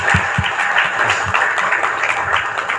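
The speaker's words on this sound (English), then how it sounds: "Please give them a big round of applause, please." An audience at a chamber of commerce general membership meeting in Ormoc applauds, steady dense clapping from a crowd filling the room, continuous and fairly loud throughout with no voices on top.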